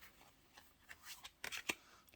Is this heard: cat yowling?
no